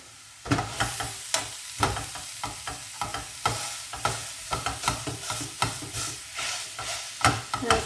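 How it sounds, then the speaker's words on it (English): Beef mince in a hot pan, broken up and stirred while frying, with rhythmic scraping utensil strokes over a continuous sizzle, close and fairly loud, no talking. "Now just break the mince up"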